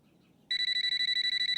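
After a brief quiet moment, a telephone abruptly starts ringing with a loud, rapid electronic trill that pulses steadily.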